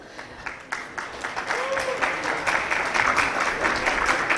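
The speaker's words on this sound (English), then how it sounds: "Ladies and gentlemen, a big round of applause." Summit audience at a Pakistan Stock Exchange event applauding to welcome a speaker, starting with scattered claps that quickly swell into sustained, full applause from a sizeable crowd, with a faint voice underneath.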